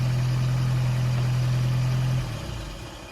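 A 1987 Toyota 4Runner engine runs at a steady, loud, close idle with a strong low hum, which drops away and fades toward the end.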